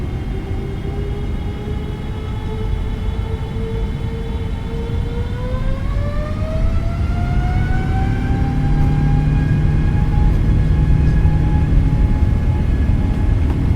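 Boeing 777-200LR jet engines spooling up for a takeoff roll in Microsoft Flight Simulator 2024, a loud continuous roar with a whining tone that rises in pitch and then holds steady.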